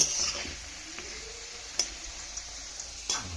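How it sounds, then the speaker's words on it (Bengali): Potatoes frying in a pan for a chicken dish, a low steady sizzle with a few sharp ticks and clinks of a utensil against the pan, fairly quiet and without talk. "এখানে আলু ফ্রাই করা হচ্ছে"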